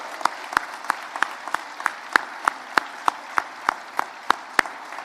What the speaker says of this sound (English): I want to give a big round of applause to Ms. Sparrow, the team here at the school, and you guys for a successful award